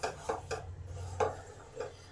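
Wheat flour stirred continuously in a pan while being dry-roasted, heard as a few soft scraping and clinking strokes of a utensil against the pan, irregularly spaced over a low steady hum, with no talking.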